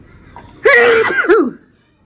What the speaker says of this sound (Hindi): क्या हो गया है, छींके आ रही है।